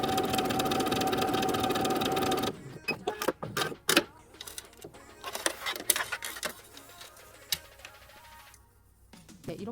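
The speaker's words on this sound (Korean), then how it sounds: "또 봉제 시작하겠습니다." A Lion 9300S household sewing machine, set to its widest stitch with the needle shifted right, runs in a steady mechanical whir for about two seconds, then stops, followed by scattered clicks and handling noises.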